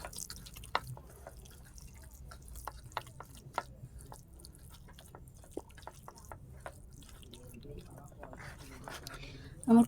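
Taro leaf mash is squished and mixed by hand with mustard oil, giving soft, wet, irregular squelches and clicks close up over a quiet background.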